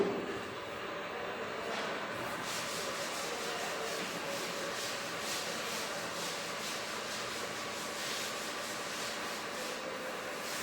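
Steady close rubbing of an eraser or duster across a board during a class-two Hindi lesson, a continuous scratchy swishing with faint rhythmic strokes lasting throughout, no voices.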